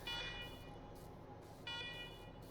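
Alarms sounding in Wasteland 3: a steady, fairly faint electronic buzzing tone that comes in two long repeated bursts, with a short gap separating them.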